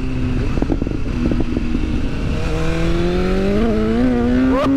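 A 2022 BMW S1000R motorcycle engine revs and climbs in pitch as the rear wheel kicks out, loud and close, with intermittent sharp bursts early on and a steady rising whine toward the end.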